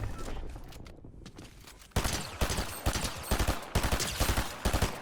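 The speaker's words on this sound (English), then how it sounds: "There was shots here." Gunfire in Fortnite Zero Build arrives first as a muffled rumble, then as a rapid string of loud, close shots in quick bursts.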